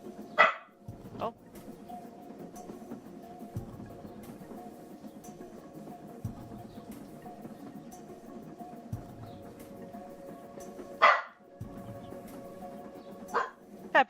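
Loud, close dog barks break in near the start and again near the end, with a softer yip between, over a constant low hum and faint background talk.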